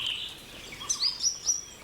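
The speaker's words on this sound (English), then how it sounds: "Most of the birds we saw appeared in all gardens, but some were restricted to a single one." In a garden in Goa, birds give high, thin chirps and a few sharp whistled calls, with louder notes bunched toward the end. The calls sound moderately near against quiet surroundings.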